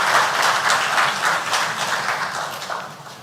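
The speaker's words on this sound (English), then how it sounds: "Please, can we give the keynote speaker another round of applause?" Keynote speaker receives a round of applause from the audience at a road safety advocacy anniversary event in Nigeria, as a steady, dense wash of clapping holds for a few seconds and then thins slightly.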